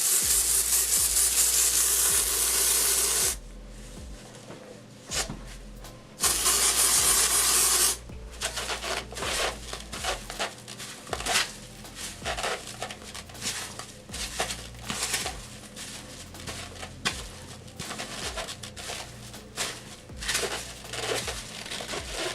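Steady rubbing and crinkly scraping strokes of a comb pulled through synthetic curls, close up, with brief pauses between passes and no talking.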